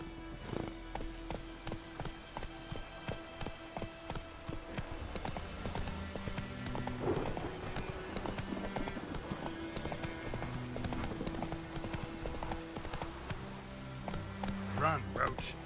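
Horse galloping in The Witcher 3: Wild Hunt video game, a rapid rhythmic clip-clop of hooves running steadily throughout, close and clear, under game music, with occasional talk.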